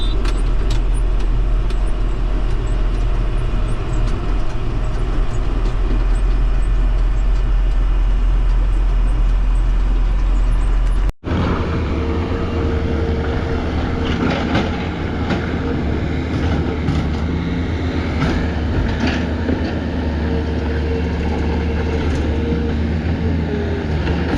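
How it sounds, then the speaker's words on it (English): A tractor hauling a big dump trailer around a cattle yard gives a steady, loud engine drone with a low, constant rumble throughout, plus a brief dropout partway through and no talking. "Big the dump trailer is, but this tractor seems to have no problem with it."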